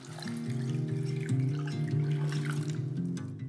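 Water runs steadily from a tap into a saucepan for kombu stock, a continuous close trickling and splashing with a shifting pitch as the pan fills, no talk over it.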